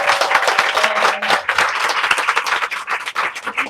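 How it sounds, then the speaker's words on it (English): Dense, steady applause from an audience at a book event with authors, many hands clapping at once and filling the room without letup. "Please keep the applause going."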